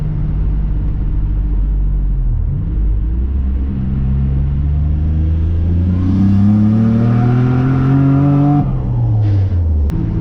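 A Nissan Navara's turbocharged VG30 engine revs hard during a boost test, a deep rumbling drone whose pitch climbs steadily under load, then drops away as the throttle closes, loud and close with no talk.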